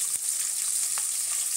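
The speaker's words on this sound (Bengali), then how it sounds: "এই যে বন্ধুরা আমি ইলিশ মাছ ভাজছি" Hilsa fish sizzling in hot oil in a pan, a steady close-up hiss with a couple of brief pops and crackles.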